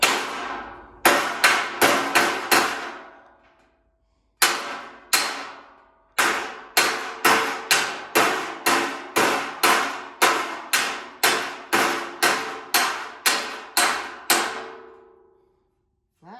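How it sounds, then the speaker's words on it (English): Hammer and dolly straightening cut sheet metal from a 1974 Chevy Nova, sharp ringing metallic strikes in quick bursts, each clang decaying briefly, with short pauses between groups, loud and close. "so we got our hammer and dolly"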